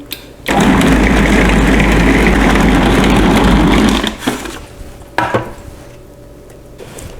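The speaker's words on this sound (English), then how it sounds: "When it forms a ball, you only knead it for another 30 seconds in this machine" A food processor kneading pizza dough runs with a loud, steady motor whir and churning for about three and a half seconds, then stops, leaving light clunks and handling noises.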